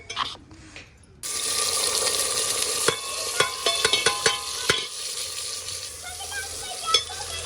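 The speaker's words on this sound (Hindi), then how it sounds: "घी अच्छे से गर्म हो गया था तो अभी हमने डाल दिए हैं प्याज" Chopped onions hit hot ghee in a cooking pot, bursting into a loud, steady sizzle after a brief quiet start, with scattered clinks and scrapes of a spoon stirring against the metal.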